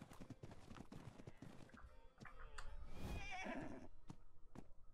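Horse whinnies and neighs in the survival game ARK, over steady clip-clopping hooves, loud and close, with a long neigh in the middle.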